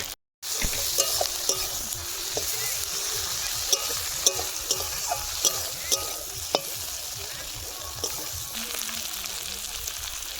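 Chopped onions frying in oil for a village-style pangas fish curry, a steady sizzling hiss with regular ticking scrapes of a stirring spoon, close and unbroken after a brief silent start.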